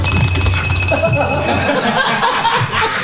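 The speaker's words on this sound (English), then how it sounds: "The buzzers aren't supposed to make that sound" A high electronic buzzer tone holds for a moment and then cuts off, while people chuckle and laugh around it.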